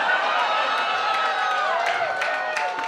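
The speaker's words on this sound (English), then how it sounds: "Don't clap at that." Audience in a stand-up comedy club breaking into steady, dense clapping mixed with crowd cheering and whoops, loud and close throughout, with laughter and voices blended in.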